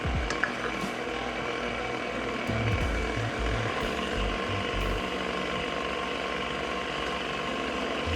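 A steady low mechanical whir and rattle from an electric mixer running at low speed, working flour into dough for crawfish bread, continuous and close.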